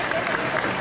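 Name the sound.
audience applauding at a cosplay contest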